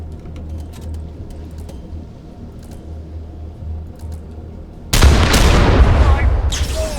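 A barrier power generator blows up in the game Lamplighters League: after a low rumbling ambience, a loud, sudden blast bursts in and rolls on as a heavy, sustained roar.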